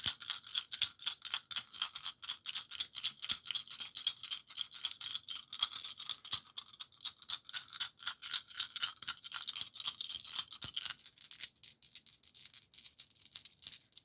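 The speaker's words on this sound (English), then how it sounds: "Dice, dice, dice. How nice." D&D dice shaken and rolled in cupped hands, a close, rapid and continuous rattling clatter that stays busy for the whole stretch and then thins out near the end.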